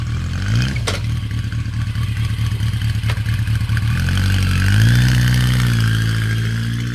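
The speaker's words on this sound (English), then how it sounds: "Dude, that is one hell of a rumble. Sounds good. That's an original factory exhaust." A Yamaha Maxim XJ650 motorcycle with its original factory exhaust cranks on the electric starter, catches and settles into a loud, rumbling idle with a brief rise in revs, close by and alone.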